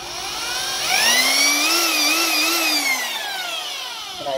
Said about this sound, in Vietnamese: Đó, còn khoan nè, khoan tiếng im em ru luôn nè.